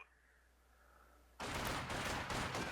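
Gunfire in the World War II strategy game Company of Heroes 2: after a quiet stretch, a sudden loud volley of rapid, overlapping shots erupts and keeps rattling in bursts.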